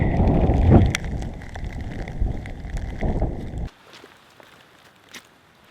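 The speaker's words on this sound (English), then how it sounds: "It's pretty much raining sideways up here." Heavy wind-driven rain on an exposed mountain ridge in Dolly Sods Wilderness, with loud gusty buffeting and patter that cuts off abruptly partway through, leaving only faint scattered taps.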